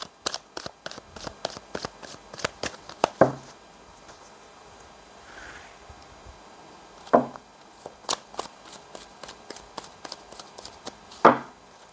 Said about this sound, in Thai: ขออนุญาตสับไพ่เริ่มต้นจากคนที่เกิดในวันจันทร์กันก่อนนะคะ